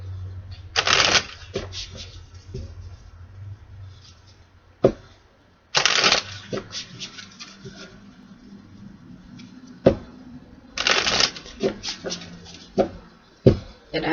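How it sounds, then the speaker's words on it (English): Oversized deck of tarot or oracle cards being shuffled by hand during a spiritual card reading: several separate bursts of close riffling and sliding card noise, with quieter pauses and soft handling in between. "I have to shuffle these like that because the deck is too big for me to shuffle out."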